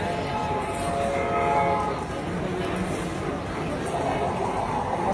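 A train rolls into a railway platform with a steady rumbling roar and a brief horn-like tone near the start, while faint chatter of people waiting carries underneath.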